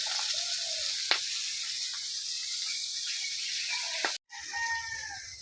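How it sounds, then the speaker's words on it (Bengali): Shing fish (stinging catfish) go into hot oil in a wok and fry with a constant, fairly soft hiss. A few faint clicks sound, and there is a brief break near the end; no voices. "এখন শিং মাছগুলো দিচ্ছে কড়াই"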